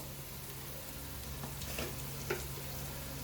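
Masala sizzles and fries in a pan for a Telugu-style fish curry, a steady close crackle with a few soft stirring scrapes partway through, no talking.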